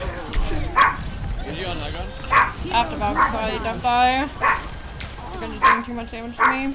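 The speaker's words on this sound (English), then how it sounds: "that is my dog Rocky in the background." A chihuahua named Rocky barks and yips repeatedly in the background, a series of high, wavering yelps and whimpers under a person talking over Overwatch 2 gameplay.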